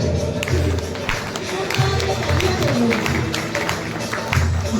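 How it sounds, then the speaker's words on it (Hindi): An audience claps in tribute to fallen martyrs during a patriotic song performance, with uneven, fairly loud claps and taps scattered across the stretch, mixed with a singing voice and music. "शहीदों के नाम से तालियां हो जाए।"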